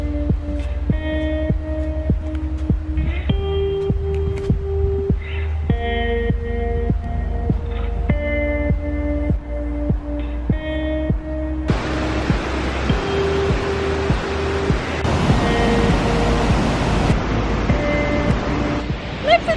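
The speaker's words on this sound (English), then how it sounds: "There may be pounding waterfalls all around me" Pounding waterfalls at New Lanark, a steady broad rush of falling water that swells up loudly in the second half, with tonal music playing over it throughout.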